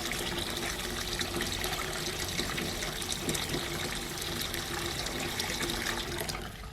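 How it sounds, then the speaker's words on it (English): Cold tap water runs steadily into a sink to rinse caustic out of a gold piece and the drains, a continuous even gush and trickle heard up close, tapering slightly at the end. "we can slowly start adding cold water in there"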